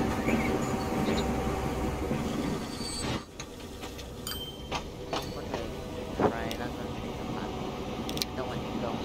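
A freight train departs in the video game Transport Fever 2, a steady rumbling rail drone that drops off after a few seconds, followed by lighter clicks and clatter, with someone talking over it.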